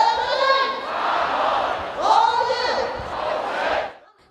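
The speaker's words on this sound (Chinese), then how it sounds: "人群高呼梁振英下台" A large protest crowd in Hong Kong chants slogans demanding Leung Chun-ying step down, a loud, sustained roar of many voices rising in waves before fading.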